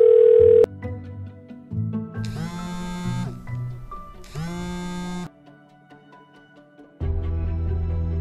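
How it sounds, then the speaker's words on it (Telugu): A telephone rings repeatedly and nobody answers, in bright electronic bursts alternating with pauses, set against tonal background music. "అరే ఫోన్ కూడా లేపుతలేడ్రా,"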